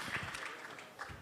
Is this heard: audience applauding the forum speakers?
yes